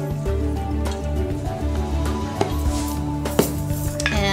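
A salad dressed with lemon juice and salt is tossed in a bowl, making a steady wet clatter with frequent sharp utensil clinks close by, and no talking.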